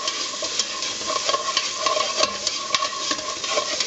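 Garlic sizzles steadily in a hot pan while a utensil stirs it, giving a continuous bright frying hiss with repeated soft scraping strokes, close and moderately loud, with no talking.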